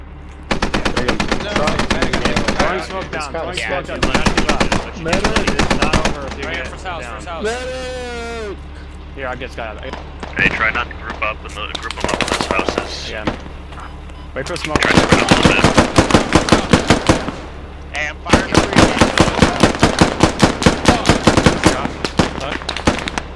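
Machine gun fire in the tactical shooter game Squad, with repeated loud bursts of rapid automatic shots in several clusters, plus people talking over voice chat between and under the gunfire.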